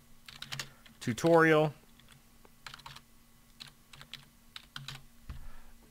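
Short bursts of keystrokes as a file name is typed on a computer keyboard, fairly close and moderately loud, with a brief spoken word in the middle.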